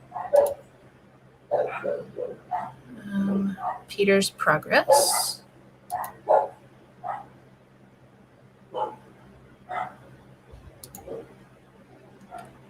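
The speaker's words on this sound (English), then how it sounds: "my dogs are going crazy" Several dogs bark excitedly in short, repeated bursts with some yips, fairly close and spread across the whole stretch, while a person talks intermittently over and between the barks.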